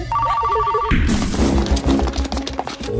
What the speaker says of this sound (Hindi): फोन उठा, फोन उठा।